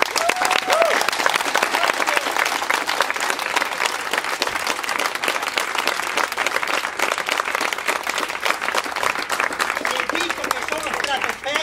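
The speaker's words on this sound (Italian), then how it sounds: "chiedo a tutti un applauso per farvi sentire quanto siete soddisfatti del lavoro di portavoce" Dense, loud applause from an audience at an Italian political gathering, steady sustained clapping throughout with faint crowd voices mixed in.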